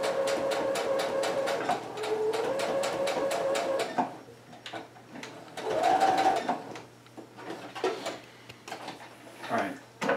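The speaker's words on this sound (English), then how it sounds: "we're going to stitch the belting just like 1/8 of an inch away from the edge onto the cape itself" Sewing machine stitching belting onto a cape seam allowance, rapid rhythmic needle clatter in close bursts with brief pauses and a soft motor hum between runs.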